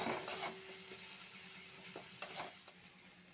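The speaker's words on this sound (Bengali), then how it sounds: "এরপর আদা বাটাটা দিয়ে একটু আদা বাটা ভেজে নেব" Ginger paste frying in a pan for a vegetarian pointed gourd and poppy seed dish, a faint soft sizzle broken by a few light utensil scrapes and clinks, quiet and close, no speech.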